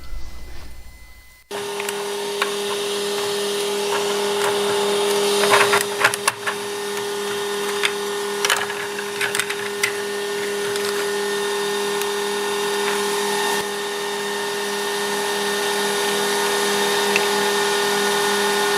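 Laser cutter cutting wood at full power and slow feed with air assist running, giving a steady loud whirring hiss with a constant tone, continuous and close with no talk.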